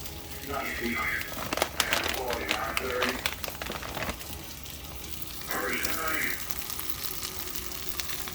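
Fully cooked steak strips heating in a pan, crackling and sizzling with rustling bursts as they are moved, while a person talks over it.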